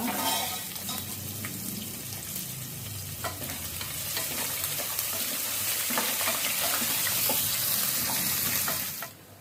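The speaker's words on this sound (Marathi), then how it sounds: "घाल्यार पियाव तशी ते भाजो" Onions frying in a pan for bisi bele bath give a steady, close sizzle with stirring scrapes and a faint watery hiss throughout, with no talking, before the sound cuts off abruptly at the end.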